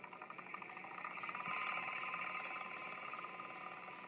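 A West Industrial Machinery line boring machine spins its shaft with a quiet, even whirring hum and faint rattle, swelling slightly as the motor speeds up, close by with no talking.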